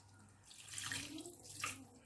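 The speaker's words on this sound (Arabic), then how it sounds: "توا باش نزيدها شويه ماء" Water runs and splashes into a cooking pot for a simple home-cooked stew, a steady close pour that swells louder twice before easing, with no talking over it.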